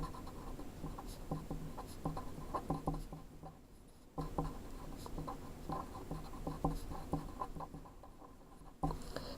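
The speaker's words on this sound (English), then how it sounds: "So let me write a little note." A pen scratches out a short handwritten note during a math lesson on polynomial functions, quiet close-up strokes arriving in bursts with brief pauses between them, no speech over it.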